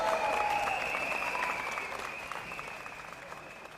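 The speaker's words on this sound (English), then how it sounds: "Give them a round of applause" A rally crowd at an outdoor Promenade venue in Singapore claps in a dense, steady round of applause that starts strong and slowly fades, with no voices over it.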